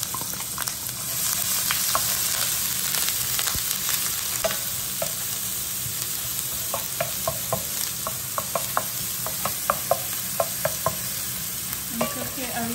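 Onion sizzling in hot olive oil in an electric skillet, a constant close crackle with scattered sharp spatter pops and stirring clicks growing more frequent toward the end.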